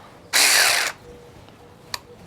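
A Durofix G12 12V cordless 1/4-inch extended ratchet whirs loudly for about half a second during a torque test, followed by quiet and one sharp click.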